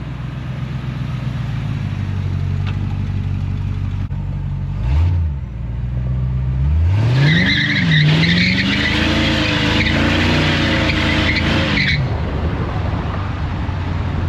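A 1976 Chevy Luv pickup fitted with a 350 engine and new exhaust revs hard and drifts, its tires squealing in a long rising and wavering screech over the engine roar.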